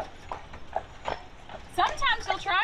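Steady clip-clop of a carriage horse's hooves on pavement in Savannah, Georgia, moderately close, with a person talking over the rhythmic hoofbeats.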